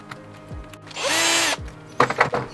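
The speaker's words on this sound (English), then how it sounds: "on this one we're just going to screw the nut back in" A power driver screwing a nut back onto the shock of an MJX 7303 RC car, with a short whirring burst in the middle and a few small clicks and handling knocks around it.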